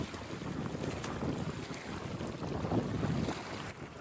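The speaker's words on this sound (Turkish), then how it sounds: "Rüzgar çıktığı için 20-25 dakika içinde ayrılacağız. Çok fazla rüzgar çıktı." Strong wind roars steadily against the microphone at a lake while fishing, with broadband rumble and gusty buffeting throughout.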